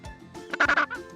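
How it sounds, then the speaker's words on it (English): A penguin gives a short burst of honking calls, three loud pulses close together near the middle of the moment, with a softer call trailing after. "Penguin. Penguin."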